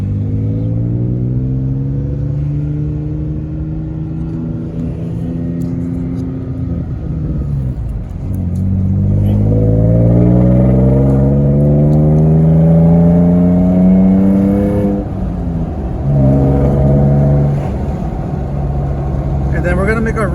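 A Toyota Tacoma pickup fitted with a lift kit idles and then pulls through a left turn at an intersection, its engine note rising steadily then dropping and rising again, loud and close, with someone talking throughout.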